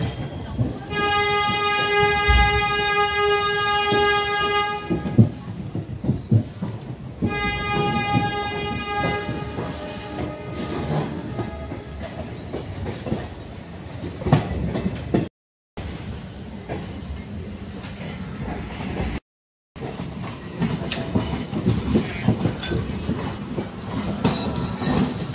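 A Howrah-bound local train crosses a bridge in the opposite direction, its horn blaring in long loud blasts over the heavy rumble and rhythmic clatter of wheels.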